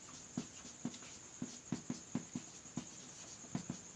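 Chalk or a marker writes on a classroom board with quick rhythmic taps and short scratchy strokes, close and fairly quiet, with no talking.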